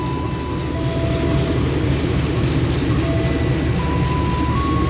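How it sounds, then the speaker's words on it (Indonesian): Indonesian CC 201 diesel locomotive of the Walahar train, based at Bandung depot, idling at a station platform with a steady loud rumble and faint tonal whines throughout. "ini adalah lokomotif yang berdinas untuk KA Walahar, yaitu CC 201 9209 Depo Induk Bandung"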